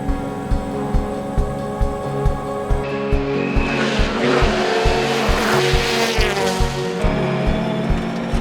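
A Hyundai Motorsport World Rally Championship car races past with a loud pulsing engine and a long, harsh tire squeal as it skids through a turn.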